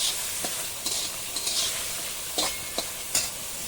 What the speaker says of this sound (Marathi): ते मी परतते पहिला कांदा टाकून भाजून घेते मग त्याच्यामध्ये तेल सोडते